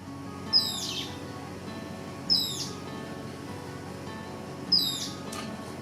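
Three sharp, high descending bird calls ring out at roughly two-second intervals, from a rose-throated becard and a golden-fronted woodpecker on the Riviera Maya, each clear and fairly close over a quiet ambient background.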